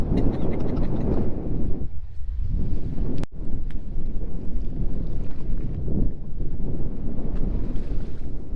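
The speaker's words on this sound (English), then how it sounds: "you can hear the line singing in the breeze" A fishing line hums and sings in a stiff breeze aboard a boat on rough seas, a steady wind-blown roar with engine rumble and buffeting throughout, loud and continuous with a brief dip and a sharp click midway.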